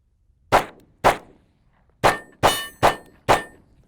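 Sharp metallic clacks from a Kimber Micro 9 pistol slide being worked and punched into battery in dusty conditions, six distinct close hits spaced irregularly with short ringing tails and silence between.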